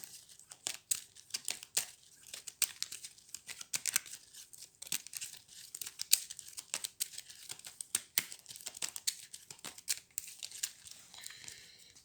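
Playing cards shuffled during a solo game of Hero Realms, a dense run of crisp riffling and snapping clicks, close and moderately loud, continuing steadily with no talk.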